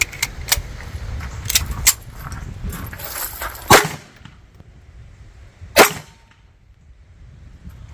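A Devil Dog Arms 1911 pistol firing steel-cased ammunition that keeps jamming: a few light mechanical clicks and rattles, then two loud, sharp shots spaced about two seconds apart, with quiet gaps between.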